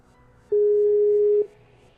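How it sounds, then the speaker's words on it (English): A single steady electronic telephone tone sounds for about a second against a quiet background. "It's ringing."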